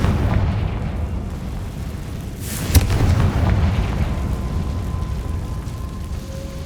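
A Confringo spell explosion in Hogwarts Legacy, a rising whoosh ending in one sharp burst over a dense, rumbling game background, followed by a low roiling swell that fades.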